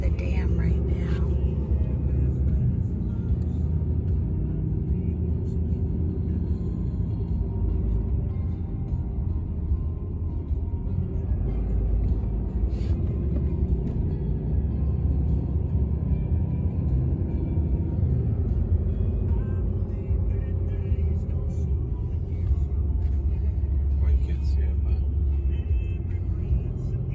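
A vehicle drives across the Hoover Dam between Nevada and Arizona, producing a steady low road rumble and engine drone that continues throughout, with voices talking intermittently over it.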